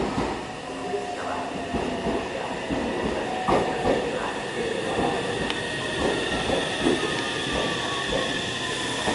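A train rumbles and clatters steadily, with faint wheel squeal and a station-like hum in the background.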